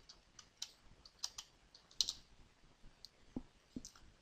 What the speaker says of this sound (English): So I'm going to type it in here.